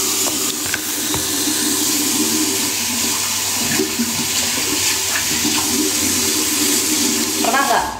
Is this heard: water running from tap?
yes